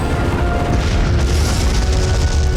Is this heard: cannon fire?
yes